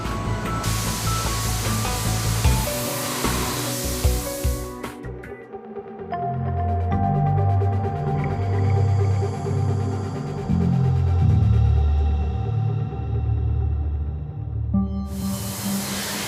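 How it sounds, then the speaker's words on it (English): Compressed air jets blow dust off an Audi car body before painting in a factory paint shop. A broad hissing spray starts and stops, then gives way to steady machinery hum with tonal notes, and the hissing returns at the end. "Air jets and emu feathers ensure that not a speck of dust remains on the surface."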